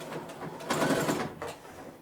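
A sewing machine runs back stitches at the end of a trouser hem, a short close burst of whirring mechanical stitching that surges and then eases off.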